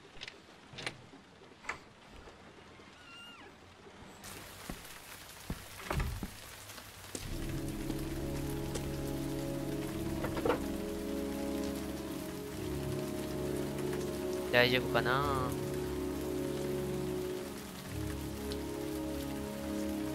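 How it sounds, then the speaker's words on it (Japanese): Rain falling in the video game Heavy Rain, a steady hiss of drops with ticking clicks, building as a low hum joins in partway through; a brief spoken line comes early. "雨が降ってるぜ。"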